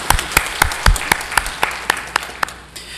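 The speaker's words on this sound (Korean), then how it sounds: "박수를 올려드리겠습니다." A church congregation at a Sunday afternoon praise service gives a short round of applause, with scattered, uneven claps ringing out over a steady wash of room sound.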